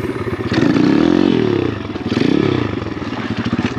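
A cheap Amazon dirt bike engine revving hard during a wheelie, a loud close buzzing rasp that rises and falls in two swells, with some rattling clatter and no talk.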